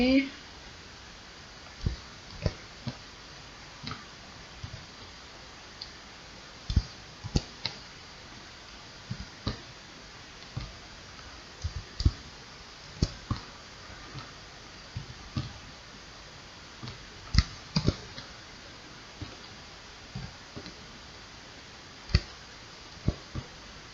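Computer keyboard keys are pressed over and over for Ctrl V pastes, making sparse, soft, sharp clicks at uneven intervals beneath ongoing speech.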